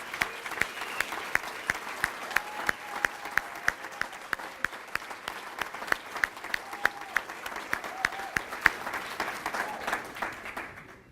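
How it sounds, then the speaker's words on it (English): A round of applause for scholarship recipients at a Jaycees scholarship reception, a room of people clapping steadily with a few sharp individual claps standing out, moderate in level and fading near the end. "Can we give them all another round of applause"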